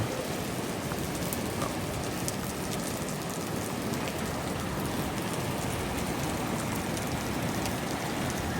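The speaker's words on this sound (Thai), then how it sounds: "สำหรับฝนตกเนี่ยนี่เสียงนะ" Steady, dense rain pattering on a surface, a constant hiss with scattered drop impacts throughout, no voices or other sounds.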